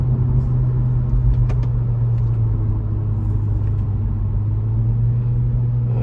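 A 2023 Acura Integra with a CVT accelerates, a steady low engine drone and road rumble from inside the cabin, even and continuous with little change in pitch.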